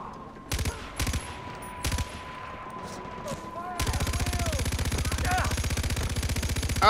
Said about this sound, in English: You little bastards shooting at me.